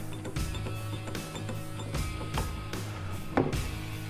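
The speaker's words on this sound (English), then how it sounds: "now we've got a large single station vise that opens up" Large Kurt TriLock single-station vise fitted with CarveSmart jaws opening up, a steady mechanical whir with ratcheting clicks and a sharper clunk near the end, close and moderately loud with no talk.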